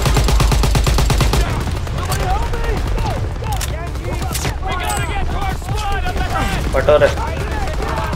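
Dense, rapid machine gun fire in Call of Duty WW2 on PC rattles on continuously and loudly, layered with game effects while a voice speaks briefly in Hindi over it.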